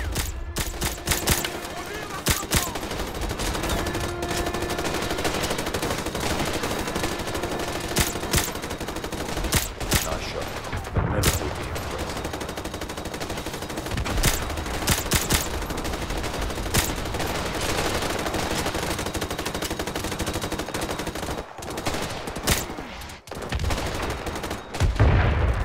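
Enemy machine gunners firing from a building window in a Call of Duty Modern Warfare Remastered battle, dense sustained automatic fire and explosions filling the scene loudly and continuously, with brief gaps near the end.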